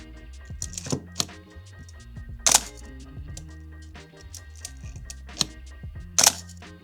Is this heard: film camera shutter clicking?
yes